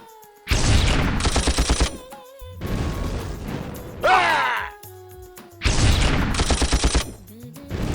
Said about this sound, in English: Brought out the battleship to bombard our tanks.